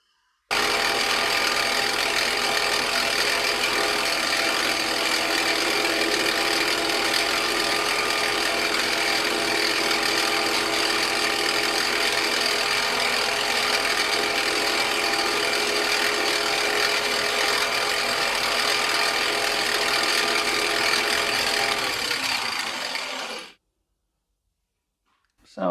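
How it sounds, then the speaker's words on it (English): A lathe center drilling metal stock for a carding wheel arbor: a steady, loud machining whir and grinding hiss runs unbroken for over twenty seconds, then cuts off abruptly into silence. "And then I can center drill it."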